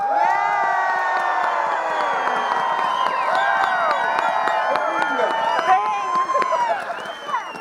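A huge outdoor crowd at a Groundhog Day celebration in Woodstock, Illinois cheers, shouts and whoops in a sustained loud roar, with individual high-pitched voices and whistles rising above it.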